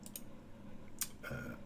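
A couple of sharp computer mouse clicks, close and faint, set against a quiet room tone while working in mapping software.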